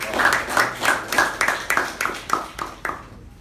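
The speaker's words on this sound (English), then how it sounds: "can we have a huge round of applause for Toastmasters?" Round of applause at a Toastmasters club meeting, a crowd clapping in a steady rhythmic patter. The claps stay bright and moderately close, then thin out and stop near the end, with no talk over them.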